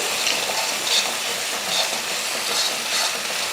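Eggs seasoned with salt and pepper are scrambled in a hot pan for chicken fried rice, giving a steady, moderate sizzle with soft scraping strokes of a spatula and no speech.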